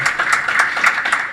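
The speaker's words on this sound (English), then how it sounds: "Applause, please." Brief applause from a conference audience at a mobile experience panel discussion, a steady patter of many hands clapping, fairly close and even throughout.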